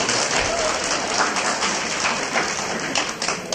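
Applause from an audience after a children's poem recital, a dense, steady patter of many clapping hands lasting throughout, moderately loud and continuous without pauses.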